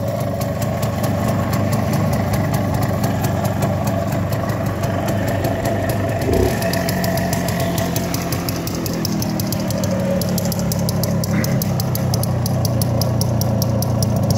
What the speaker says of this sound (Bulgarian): Хубаво моторче, иначе изкарва приятен звук.